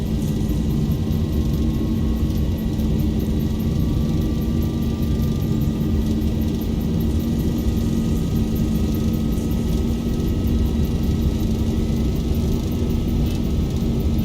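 ZIBO Boeing 737 engines at takeoff thrust on a long runway in X-Plane 11: a steady, loud jet roar with a low droning hum that holds unbroken throughout.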